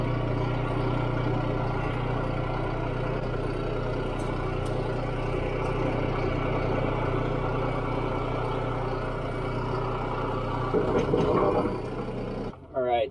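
A tractor running a salvaged PTO-driven leaf blower gives a loud, steady mechanical drone that holds throughout, shifting and roughening briefly near the end.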